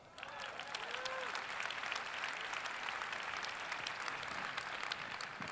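Sustained audience applause from a healthcare conference crowd fills the room, steady dense clapping at even loudness throughout, with faint voices mixed in.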